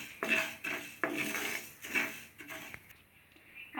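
A spoon scrapes and clatters against a pan as coriander seeds are dry roasted, a series of close, rhythmic metallic stirring scrapes with short pauses between strokes.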